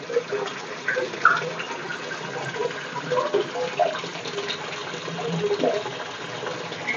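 Water pouring from a fish pond filter motor setup in a waterfall arrangement, a close, continuous splashing trickle with small bubbling gurgles throughout.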